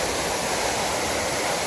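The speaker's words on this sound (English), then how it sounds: "there was some water flowing over this thing, but not as much as it is now" Toccoa Falls pours with a steady, dense roar of falling water, loud and unbroken throughout, with no voices.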